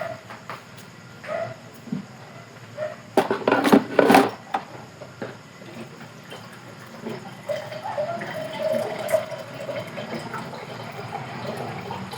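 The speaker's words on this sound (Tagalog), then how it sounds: "Dagdagan pa natin siya ng tubig." Water poured into a cooking pot while making lomi, a short splashing burst in the middle followed by a softer trickle, close by in a kitchen.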